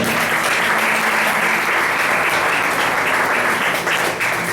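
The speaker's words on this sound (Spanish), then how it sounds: "Denle ese aplauso al Señor." Loud, sustained applause from a large church congregation fills the space, steady clapping without pause throughout.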